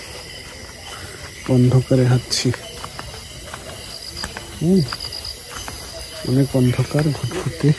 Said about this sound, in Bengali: ঝিঝি পোকার ডাক চারিদিক।